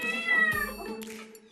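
Several cats in a home with nine cats meow insistently in protest at mealtime, a close, loud run of overlapping cries lasting just over a second.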